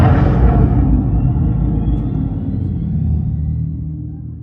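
A 2025 Dodge Charger Daytona R/T Stage 1 starts up with a loud, deep rumble that fills the air, then slowly settles and fades a little over a few seconds, heard close and alone.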